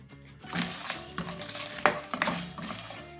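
Vegetables fry in a hot kadai on a gas stove, a steady close sizzle punctuated by stirring scrapes and the clink of a utensil against the pan.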